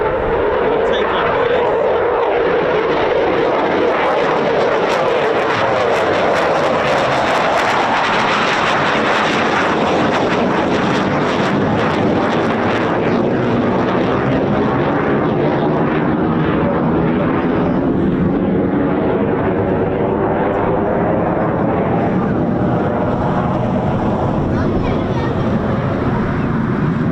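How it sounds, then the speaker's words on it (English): A Eurofighter Typhoon FGR4 jet takes off at an RAF station with reheat engaged, a loud tearing roar that builds and then sweeps away into the distance, with people talking over it. "This sounds like reheats are on. Look at that. Look at that launch."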